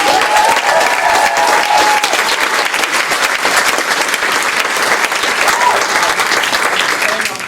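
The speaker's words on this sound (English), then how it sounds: "One round of applause for them." A crowd at a Play-In-A-Day theatre event applauds the writers in a dense, continuous wash of clapping that stays loud and even throughout, with some cheering and voices mixed in.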